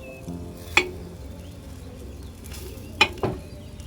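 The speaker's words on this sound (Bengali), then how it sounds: "আমি খুন্তি দিয়েই কেটে নিচ্ছি" An omelette is cut in the pan with a metal spatula, giving sharp clinks of the blade against the pan at about three spots over a low, steady frying hiss.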